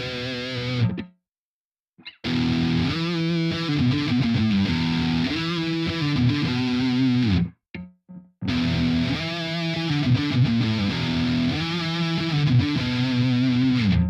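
A Squier Sonic Mustang electric guitar with single-coil pickups plays distorted, effects-laden chords and riffs, loud and continuous, with two brief silent gaps where the single-coil hum and noise show through.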